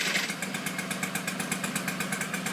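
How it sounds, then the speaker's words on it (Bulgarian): A Honda motorcycle idles steadily up close, its engine giving a loud, even, rapid pulsing that holds without a break. "Така пали Honda."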